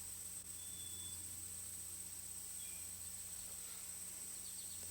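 Steady insect buzzing and chirring fills a quiet outdoor scene, with a couple of faint, brief bird calls in the distance.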